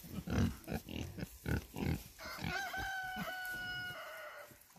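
Pigs grunt and squeal on a farm in several short bursts over the first half, followed by a rooster crowing loudly and clearly in the later part, with steady outdoor ambience underneath.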